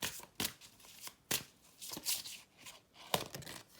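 Oracle cards shuffled by hand for a reading, heard as several quick, crisp riffling bursts separated by short pauses, close and fairly faint with no talk.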